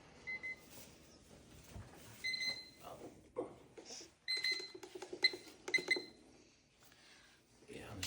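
A pork smoker's controller gives a series of short, bright electronic beeps, irregularly spaced, as its temperature is raised, mixed with clicks and handling noise at close range.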